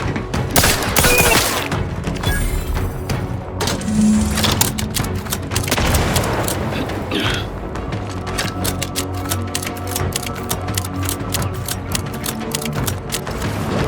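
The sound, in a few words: grenade explosion in video game The Outer Worlds 2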